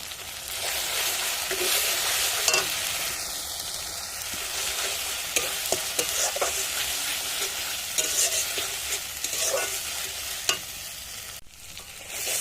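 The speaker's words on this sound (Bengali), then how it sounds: "মশলাটা আমি কিছুক্ষণ কষিয়ে নিচ্ছি।" A dried red chilli and cumin spice paste with salt sizzles and fries in a pan for goat meat, with a spoon scraping and stirring through it in irregular strokes, close and continuous.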